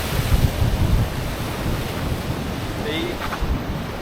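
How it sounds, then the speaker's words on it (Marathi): Surf washes steadily against the shore near a seaside fort bastion at Redi Beach, a dense roar mixed with gusty wind rumble on the microphone. "समुद्राच्या लाटात जोरात येऊ शकतात आणि आपल्या अंगावर पाणी येऊ शकतंय"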